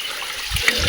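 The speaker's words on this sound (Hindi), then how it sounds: "तो यह धारा देखिए प्राकृतिक, क्या खूबसूरत पानी है इसका, क्या ताज़ा पानी है।" Natural mountain stream water flowing at a village, a steady close rushing wash with small splashy surges, short and unbroken, no voices.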